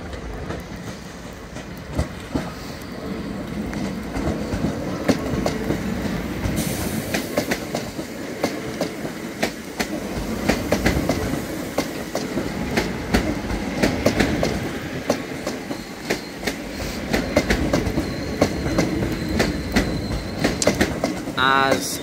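Two coupled Class 323 electric trains pull into Manchester Piccadilly with rolling rumble, rhythmic wheel clicks and occasional squeals, sustained throughout and close by, with a voice speaking briefly.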